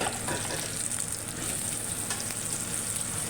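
Eggs frying one by one in a pan of oil, a loud, continuous, close sizzle with a bright hiss that holds steady throughout, no talking.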